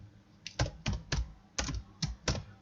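Keys clack on a computer keyboard as Python code is typed, six or seven distinct close taps in an uneven rhythm with no talking.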